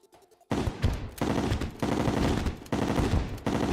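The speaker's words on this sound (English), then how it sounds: "I'm still firing the crystal bullets" Crystal bullets fire in the video game Terraria: after a moment of quiet, rapid automatic shots hammer out in dense bursts with brief breaks between them, loud and close, with no talking.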